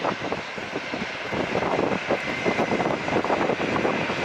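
A plane roars down the runway on takeoff at San Diego International Airport, a steady, loud engine rush that swells slightly as it goes, heard from nearby with no talk.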